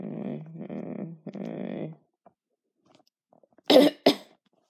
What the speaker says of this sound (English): you really are coughing